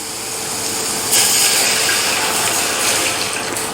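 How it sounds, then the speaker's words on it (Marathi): Water streams steadily into a pan of frying dried chickpea greens seasoned with turmeric and salt, a close, continuous rushing pour that swells louder partway through and runs for several seconds with no talk. "आणि आता आपण यामध्ये घालूयात पाणी"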